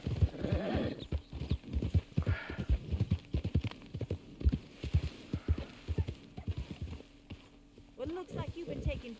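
Horse hooves clip-clop in the video game Red Dead Redemption 2, with a steady rhythmic walking beat close by and a horse snorting near the end, while voices talk over it.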